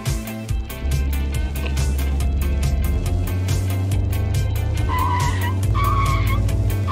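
Cars drift and tires skid in the Drift Boss driving game, a steady electronic engine drone with repeated squealing skids and game music and effects layered over it throughout.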